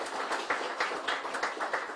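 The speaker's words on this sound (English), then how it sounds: "Ted and Deidre, give them a round of applause." An audience applauds at a Southern University event, steady clapping from many hands filling the full two seconds at a moderate level with no voices over it.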